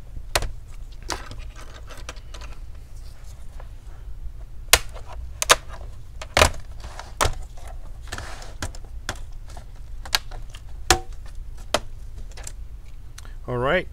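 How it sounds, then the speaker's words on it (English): Back cover of an Asus GL731G laptop being pried open, giving a series of sharp, separate plastic snaps and clicks spaced irregularly over quiet background, with a soft squeak at the end. "Now the next step I need to do is to pop open the back cover."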